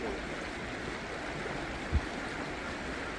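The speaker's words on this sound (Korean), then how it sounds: "물소리가 엄청 우렁차다?" Loud, steady rush of the Hongcheon River flowing at a riverside campsite, a continuous broadband roar filling the scene with one brief low thump partway through.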